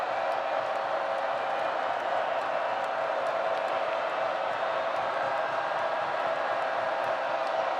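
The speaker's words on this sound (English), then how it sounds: "Crowd getting behind him here." Dense, continuous roar of a football stadium crowd at a college game between Charlotte and Florida, steady and loud throughout with no distinct claps or shouts standing out.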